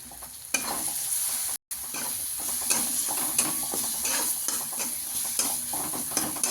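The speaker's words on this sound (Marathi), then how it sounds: "मस्त जरा हलवून घ्यायचं खडा मसाला आपण बारीक केलेला खडा मसाला" Ground whole spices frying in oil for egg curry, stirred with steady, repeated scraping strokes over a soft continuous sizzle, broken by one brief dropout.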